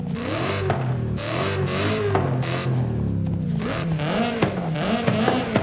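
A Toyota Chaser GT with a Turbo Rally engine in Forza Horizon 5 revs continuously, pitch climbing and dropping through gear shifts, loud and close with no talking.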